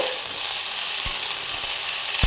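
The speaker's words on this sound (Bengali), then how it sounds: "একটুখানি এরকম করে নেড়ে নেব" Mixed pumpkin leaves, bottle gourd leaves and other greens for a lau data chorchori stir-fried in a pan, a loud close sizzle running throughout with two brief stirring knocks.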